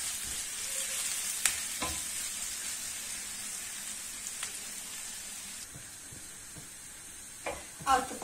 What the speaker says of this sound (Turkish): Şöyle biberim biraz daha kavrulsun.